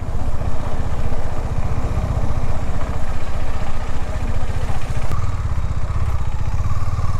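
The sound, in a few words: motorcycle engine idling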